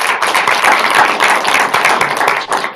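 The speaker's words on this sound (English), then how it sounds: "Let's give them another round of applause." A seminar audience on energy at TTU breaks into a close, lively round of applause, many hands clapping densely and steadily for a few seconds.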